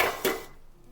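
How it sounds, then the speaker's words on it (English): A lid set onto a frying pan gives a short metallic clank up close, followed by a second lighter clink and a brief fading ring. "I'm gonna grab my lid and I'm just gonna cover it"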